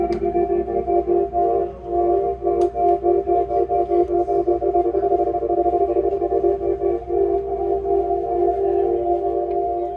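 Sustained electric guitar chord with a pulsing tremolo plus reverb and delay, volume swelling and dipping in a steady, rapid rhythm, ambient and washed with echo.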